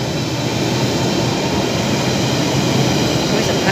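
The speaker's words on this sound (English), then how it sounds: "This is the train. It's not going to stop." A train roars steadily through a station without stopping at close range, a dense continuous rumble and rush of wheels and wind with no pause, loud throughout.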